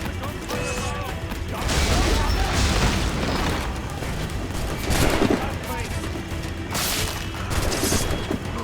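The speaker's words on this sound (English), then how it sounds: "Careful with the gunfire!" Bursts of gunfire and booming impacts in the pirate video game Assassin's Creed Black Flag, loud and recurring over a busy battle din.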